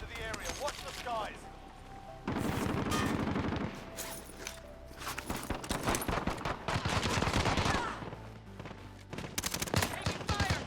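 Rapid gunfire bursts and single shots in the video game Warzone, loud and repeated across the scene amid battle noise, with voices calling out over the shooting.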